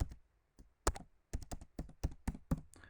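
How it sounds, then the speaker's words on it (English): Quick keystrokes on a computer keyboard while typing an email address, a close, irregular run of sharp clicks and taps with brief pauses, no voices. "simply type in their email address and click add"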